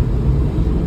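A car drives steadily, giving a continuous low road rumble and engine drone from inside, loud and close with no talking.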